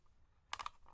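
A Walkman cassette player being closed, a short near run of sharp plastic clicks and snaps after near silence, quiet overall.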